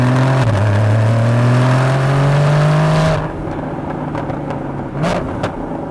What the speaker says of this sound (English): Downshift, what a sound.